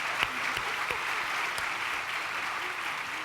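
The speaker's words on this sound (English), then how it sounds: "Let's give them a round of applause" Luncheon audience at a young women's awards event clapping together, a dense steady applause that fills the room and stays even throughout, loud and close.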